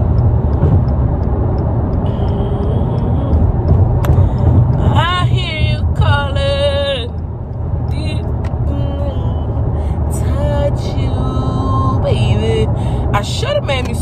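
Road traffic rumbles steadily around a car being driven, with engine drone, passing vehicles and occasional higher whines or brake hisses, loud and close; a person talks intermittently over it.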